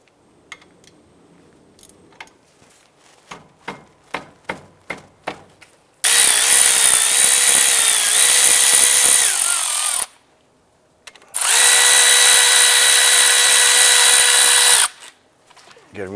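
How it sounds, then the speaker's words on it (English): Impact power tool spinning off 13mm brake caliper bolts on a Cadillac DTS: a string of sharp ratcheting taps, then two loud sustained whirring bursts of several seconds each, close up with no talking. "I'm going to go ahead and remove our brake caliper by loosening and removing this 13mm bolt"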